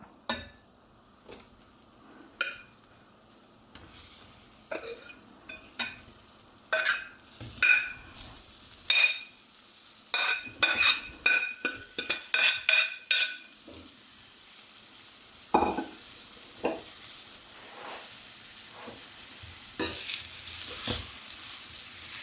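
Lemon segments stirred with masala in a pan for pickle: a bed of faint sizzling under irregular bursts of spoon scraping and metallic clinks that grow busier in the middle, close and unvoiced.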